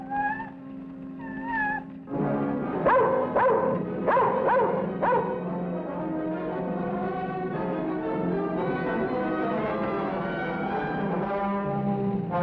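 A dog barks several times in quick sharp bursts, with meow-like whines before it and a steady background hum that carries on afterward.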